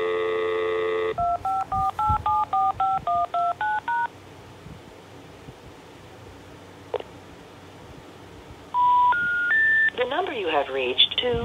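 Touch-tone DTMF dialing on a Cox phone line to an old Stromberg-Carlson XY exchange: a steady tone, then a quick run of about ten dialed beeps, a silent pause with a click, then rising intercept tones and a garbled start.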